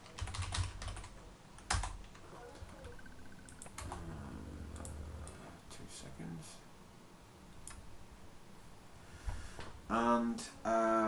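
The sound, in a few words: typing on a computer keyboard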